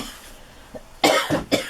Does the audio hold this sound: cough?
yes